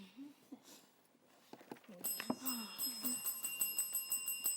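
A quiz-show bell rings out to mark the end of a junior school quiz match, sustained high ringing tones that repeat in a steady pattern after a brief burst of talk and audience noise.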